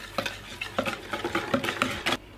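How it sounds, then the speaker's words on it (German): A wire whisk beats strawberry purée and sugar in a mixing bowl, giving a quick run of about nine close, scraping strokes in a steady rhythm. "Das Erdbeerpüree in eine Rührschüssel geben, den Zucker zugeben und mit einem Schneebesen verrühren."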